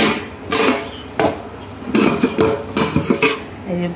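Dal, rice and a boiled egg are served into a child's tiffin box in a home kitchen, heard as a few close clinks and scrapes of a spoon against dishes. No one talks during it.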